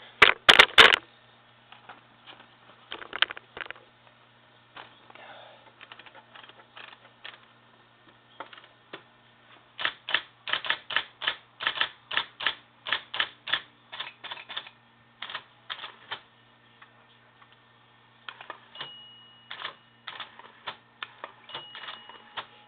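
An IBM Selectric 1 electric typewriter types onto a sheet of paper, giving bursts of sharp, rapid mechanical key strikes and clacks in irregular runs over a steady low motor hum, close and clear with no talking.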